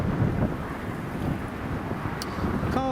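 Strong, gusty wind buffeting the microphone outdoors at Newcastle International Airport: continuous loud low rumbling and roaring, with a faint distant tone and chirp near the end.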